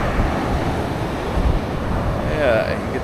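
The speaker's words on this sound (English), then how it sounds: "it's still windy, a little bit less windy though than when I was here last time" Steady wind buffets the microphone at a beach in Maui, with surf rolling continuously underneath and no talking.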